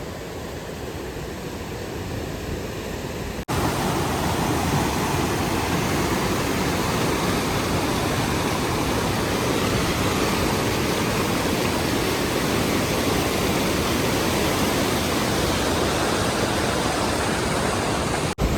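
Crystal-clear mountain river rushing on the Rupin Pass trek in Himachal, a dense, steady roar that swells louder after the first few seconds and continues unbroken, with no voices.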